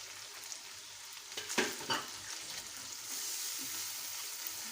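Yogurt added to frying chicken keema: a sudden burst of loud hissing sizzle as it hits the hot pan, then a steady crackling fry with a few stirring scrapes.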